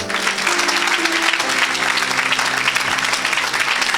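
A congregation at an evangelical church service applauds and cheers for the Lord, steady dense clapping that fills the space loudly and continuously throughout.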